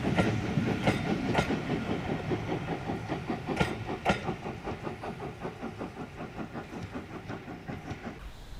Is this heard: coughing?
no